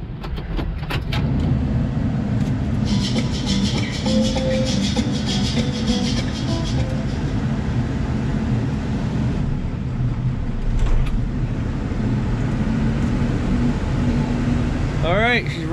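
A vehicle engine runs steadily through a snowy cold start, a dense low rumble with a brief starter-like burst near the start, while a person talks over it.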